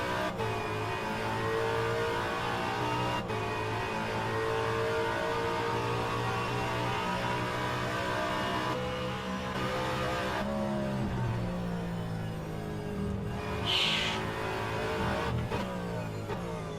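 Race car engine in a V8 league sim racing game at Sandown, holding a steady loud drone with rising acceleration pitch up the main straight, continuous throughout.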